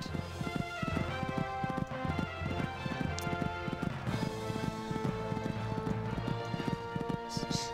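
Galloping horse hooves from a Horse Olympics video game, a fast repeating clip-clop rhythm running throughout alongside game music, with a commentator-style voice now and then.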